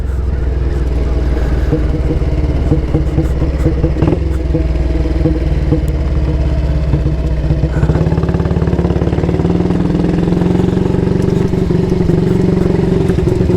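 A 1938 AJS Model 22 250cc vintage single-cylinder motorcycle runs close by, its loud, steady low thumping beat clattering on without pause, shifting slightly in pitch partway through as the engine note changes.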